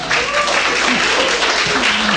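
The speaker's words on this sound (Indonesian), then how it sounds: "Tepuk tangan untuk Ustadz Abu Hilal." An audience at a religious book-discussion gathering claps in a loud, continuous burst of applause, with voices mixed in underneath.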